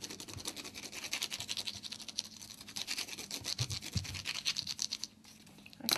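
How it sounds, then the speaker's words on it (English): A brush scrubs across paper while applying alcohol ink, a quiet, rapid scratchy rubbing that continues steadily for several seconds before briefly pausing. "just put some alcohol ink on it just to give it a bit of colour. Grab a brush very quickly"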